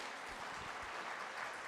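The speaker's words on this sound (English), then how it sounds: "Please give Alvin Felzenberg a round of applause." Steady applause from an audience at the Richard Nixon Presidential Library honoring author Alvin Felzenberg, a dense, fairly soft wash of clapping sustained throughout.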